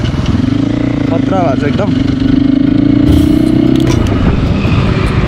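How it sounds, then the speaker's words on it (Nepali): A recently serviced Crossfire GR7 250 motorcycle being ridden, its engine giving a steady, loud drone that rises briefly in pitch, heard under a rider talking over wind noise. "अनि आज चाहिँ म यहाँ GR7 चलाउँदैछु है।"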